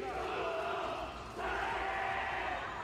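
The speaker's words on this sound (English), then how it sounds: "there's a whole crowd just chanting that" A large crowd of K-pop fans chanting and shouting in unison, a dense, loud roar of many voices with a brief dip midway before swelling again.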